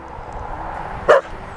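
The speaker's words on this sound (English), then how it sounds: "Every time I pick up the camera, she start barking" Gypsy, a big dog in a tiny home, gives one short loud bark close by, rising sharply out of a low indoor hum.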